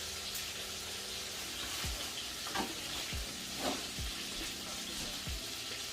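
Chicken frying in a pan, a steady close sizzle of hot oil with soft stirring and scraping sounds recurring every second or so, moderately quiet and without talk.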